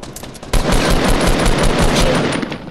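Rapid automatic gunfire in the Fortnite Battle Royale video game, a loud burst of fast repeated shots after a few lighter pops, close and sustained for a couple of seconds.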